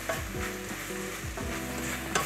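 Oats, mixed with cinnamon, toast in a hot pan with a soft continuous sizzle, while a utensil scrapes and stirs them in a few quick, close sweeps, ending on a sharper clack; no talk.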